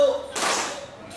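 A group of children clap their hands together once in a classroom counting game, a single sharp burst of claps, with a teacher speaking around it.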